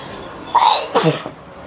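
A single loud, close sneeze with a quick intake of breath before the burst, then quiet.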